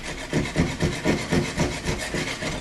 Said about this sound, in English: See, I'm just shaving off the back of the sheetrock a hair.